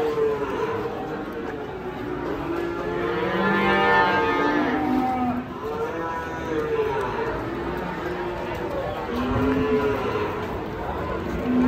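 Cattle moo repeatedly amid a noisy crowd at a livestock auction, with people chattering throughout and the lowing rising over the steady background din.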